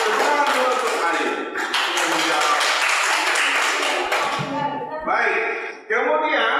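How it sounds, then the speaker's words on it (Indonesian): A classroom group applauds a student, giving a dense, steady burst of many hands clapping close by for several seconds before it breaks off into a few scattered claps. "Tepuk tangan untuk Ayu."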